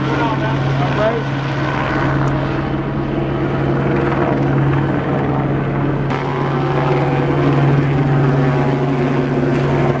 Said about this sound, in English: There's a helicopter and a lot of LAPD.